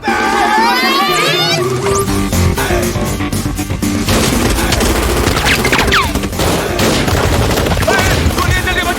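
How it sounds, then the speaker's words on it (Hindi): Rapid bursts of film gunfire in a Hindi comedy scene starring Ajay Devgn and Johnny Lever, loud and continuous, mixed with crashes, background music and shouting voices. "गोलियां चल रही है, बचाओ!"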